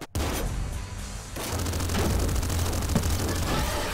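Fireworks burst very close by on Bonfire Night, loud booms followed by rapid crackling and popping that carries on through the stretch with no talking.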